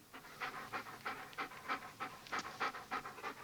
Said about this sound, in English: is the sound of a dog who's just run 23 miles